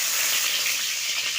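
Panch phoron and green chillies hit hot oil in a kadai, giving a brief, dense, steady hiss of sizzling at close range.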